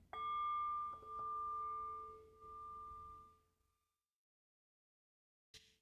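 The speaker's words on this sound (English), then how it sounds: "by the sound of the bell" A clear bell rings with a bright, sustained tone, struck a few times and decaying into silence, followed by a short faint noise.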